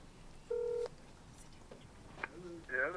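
A telephone keypad gives off several short dialing tones: one long steady beep, then quicker blips, fairly clear over a quiet room with faint background voices.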